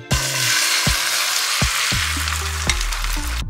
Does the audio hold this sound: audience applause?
no